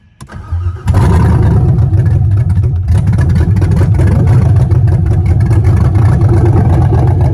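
LSX V8 swapped into a BMW cranks and catches after a brief starter whir, then settles into a loud, rough, steady idle with a deep throbbing rumble, close by and alone.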